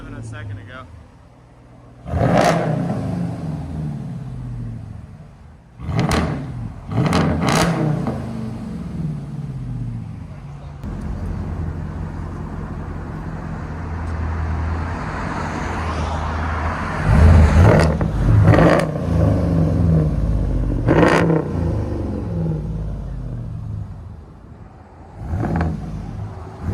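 Straight-piped RAM V8 truck engine, heard from inside the cab, roars through several loud rev bursts, rising and falling between quieter idle rumble, with voices talking between revs.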